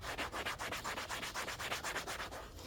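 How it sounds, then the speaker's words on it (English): A scrubby sponge is worked back and forth over a cracked surface, producing a brisk, even series of close, rasping scrubbing strokes with no voices. "I try and scrub as good as I can in between the cracks everywhere."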